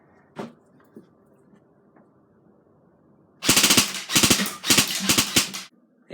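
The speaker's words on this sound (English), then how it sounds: "I'm going to try to shoot those down with the full auto" A G&G CM16 Raider airsoft rifle fires full-auto bursts at bottles, about four loud rapid rattling strings in close succession after a quiet lead-in with a few faint clicks.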